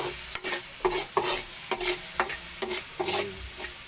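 Tomatoes stir-fried in a pan with shrimp and pork, giving a steady sizzle broken by repeated scraping strokes of a spatula, close up with no talking.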